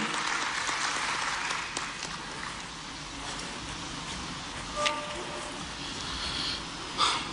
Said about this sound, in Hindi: तालियों से स्वागत करेंगे श्री बी सिंह जी का उद्बोधन के लिए